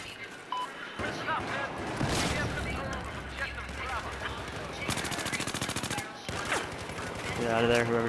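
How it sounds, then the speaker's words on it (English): Battlefield 4 gunfire rattles in rapid automatic bursts and single shots, loud and repeated, with a player's voice talking over the shooting. "Shooting at the stairwell."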